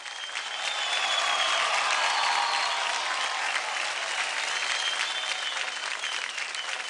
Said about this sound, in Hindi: जोरदार तालियां हो जाए टीम जलवा यानी DID2 की डांसिंग स्टार वंदना के लिए।